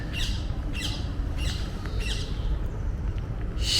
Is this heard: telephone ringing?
no